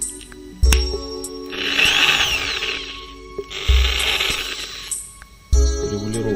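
Patriot FD 850 impact drill running in reverse, spinning up in three loud bursts of a few seconds each, with clicks and handling noise between them.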